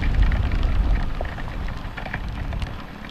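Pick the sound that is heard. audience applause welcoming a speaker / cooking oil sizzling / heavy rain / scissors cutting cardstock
heavy rain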